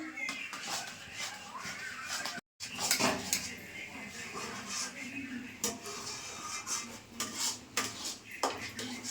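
A mango and semolina sweet being stirred continuously in a pot over a village-style cooking fire, a metal spoon scraping and clattering against the pan in constant rhythm, close and busy, broken by one brief moment of silence.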